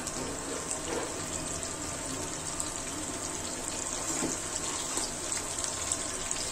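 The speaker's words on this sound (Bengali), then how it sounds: "তো পানিটাও দিয়ে দিলাম" Water pours steadily into a pot of browned beef and potatoes, a continuous splashing gush heard close and fairly soft.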